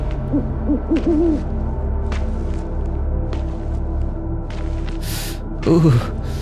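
An owl hoots a few soft, wavering calls, then another hoot near the end, amid quiet rustles and faint ambient noise.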